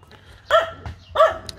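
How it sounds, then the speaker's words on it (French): A dog barks twice at close range, two loud harmonic barks about two-thirds of a second apart, with faint background noise between them. "Et il aboie toujours."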